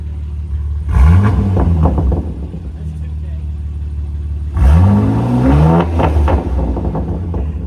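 A BMW M2 G87 with its S58 engine and a full titanium Valvetronic exhaust blips twice, each rev rising sharply from a deep, throaty idle and falling back, loud and close.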